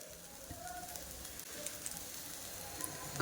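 Grated potato pancake for a fasting recipe sizzling in a pan after being flipped, a soft, steady hiss and crackle throughout with no talk.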